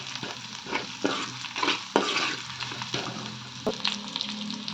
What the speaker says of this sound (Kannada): ಬೆಳ್ಳುಳ್ಳಿ ಸ್ವಲ್ಪ ಫ್ರೈ ಮಾಡಿಕೊಂಡು